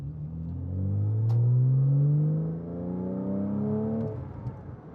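A 2006 Porsche Cayman S pulls out and accelerates, its engine note rising steadily through the revs, easing off and climbing again through a gear change, heard from inside the car.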